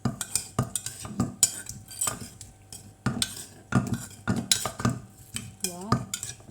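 Utensils clatter and scrape against a bowl while homemade Thai som tum papaya salad with bagoong is tossed, a quick irregular rhythm of close knocks and stirring.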